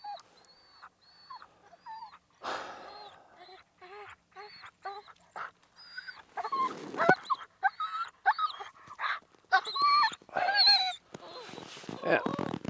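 Huskies pulling sleds at a high alpine winter camp whimper and whine in a chorus of overlapping high, wavering cries, close and insistent, building louder and more frantic toward the end.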